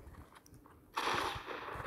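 Gunfire from the video game Fortnite: after a near-quiet moment, a sudden rapid burst of shots starts and keeps rattling. It is moderately loud and sits over a soft game background.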